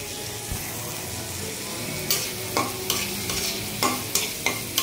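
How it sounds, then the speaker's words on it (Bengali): An onion frying in a pot with salt while being stirred, a steady low sizzle broken by several sharp scraping clicks of the spoon toward the end, close and fairly quiet. "পেঁয়াজটা একটু ভাজা ভাজা করব।"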